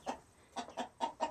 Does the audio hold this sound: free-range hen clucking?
yes